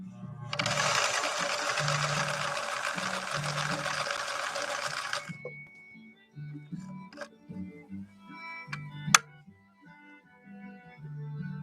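A 1964 Viking Husqvarna 19E sewing machine sews a zigzag stitch in cotton, whirring close and steady for about five seconds before stopping, then soft handling clicks and taps follow.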